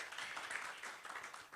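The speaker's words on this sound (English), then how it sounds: "Let's welcome him as well with a warm clap." Warm clapping from a seated audience at a business launch event, welcoming a construction company executive, a short steady burst of moderate applause heard alone.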